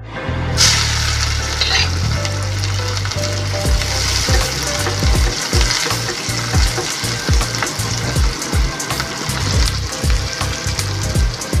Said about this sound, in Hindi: तेल गरम होते ही मैं इसमें लहसुन डालूँगी, कड़ी पत्ता, 1 चम्मच जीरा और मिर्च प्याज डालकर इसे ब्राउन होने तक भूनूंगी